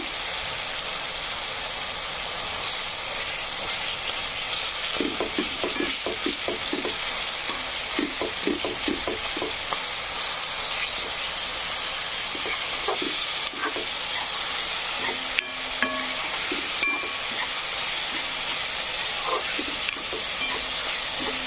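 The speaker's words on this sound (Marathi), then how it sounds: "टमाटर पण फ्राय झाले. मस्तपैकी असं तेल सुटाले आता." Tomatoes frying in oil for a usal gravy, a steady bright sizzle with bursts of spoon-stirring clatter and scraping against the pan, close up and continuous, without speech.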